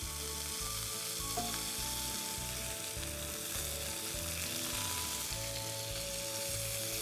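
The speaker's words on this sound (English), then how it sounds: "Lovely hot pan. I'm going to pop the lamb in." Lamb sizzling in a hot pan, a steady crackling fry with soft bubbling, close and continuous over a low background hum.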